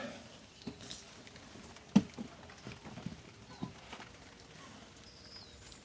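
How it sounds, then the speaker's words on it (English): Sparse, faint taps of raindrops land irregularly on an abandoned BMW E46 in a quiet setting, with no one speaking. "why has it gotta start raining?"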